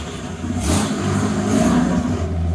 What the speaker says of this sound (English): Backing her out to test the new jets and air correctors.